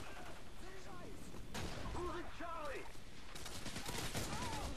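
A silenced UMP submachine gun fires in a video game as a rapid burst of muffled shots, with game sounds mixed in and someone talking over the gunfire.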